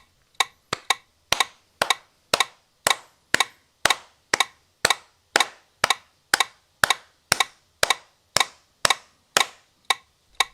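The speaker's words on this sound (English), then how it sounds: "And we're gonna start clapping." Hand claps used to sync audio, about twenty sharp, isolated claps at a steady, roughly half-second rhythm, close and crisp against near silence.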